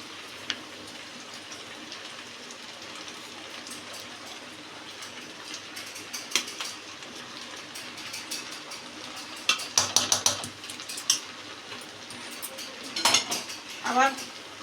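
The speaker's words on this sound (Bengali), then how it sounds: "এবার আবার এঁচোড়টা দিতে থাকছি।" Jackfruit biryani rice being stirred in a pot, with faint scraping and a few clinks of the spoon against the metal that come in short bursts toward the end over a low kitchen background.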